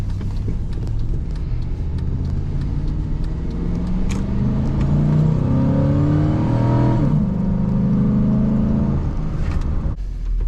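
Chevrolet Silverado pickup truck driving on the road, engine droning steadily and rising in pitch as it accelerates through the gears, with continuous road and wind rumble, heard from inside the cab.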